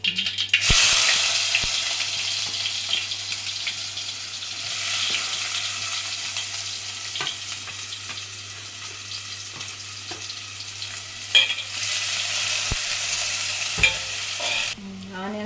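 Onions fry in a pan for a mutton curry, giving a steady broadband sizzle with occasional spoon scrapes and clinks against the metal, fairly close, with no voices, and the sizzle drops away briefly near the end.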